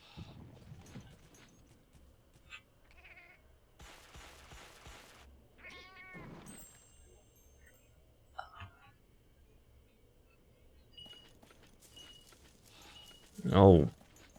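Melynx cat creatures in the video game Monster Hunter 3 Ultimate give a few faint meows amid game effects, ending in one louder, sharper cry near the close.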